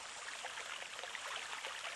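Cartoon water pours from a hose into a tub in a steady, soft splashing stream, faint and continuous with no voices over it.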